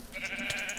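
A sheep bleats in a Minecraft modpack video game, a short, fairly quiet wavering bleat over a faint digital background.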